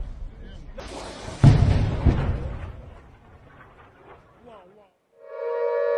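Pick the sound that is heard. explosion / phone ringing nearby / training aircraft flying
explosion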